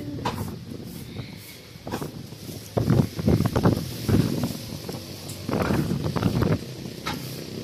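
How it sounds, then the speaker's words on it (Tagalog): Strong gusty wind in the aftermath of Typhoon Uwan, rushing and buffeting hard against the microphone in surges, loud and close with rustling between gusts. "So, still malakas pa rin ang"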